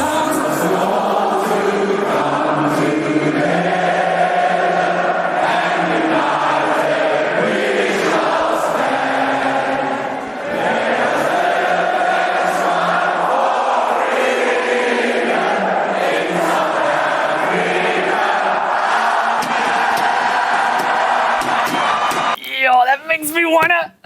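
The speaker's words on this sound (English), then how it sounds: "she handed over to the crowd to sing the final verse" A large stadium crowd at a rugby test sings the final verse of the national anthem together, a loud, sustained, full-bodied mass of voices that carries on for over twenty seconds and then breaks off abruptly.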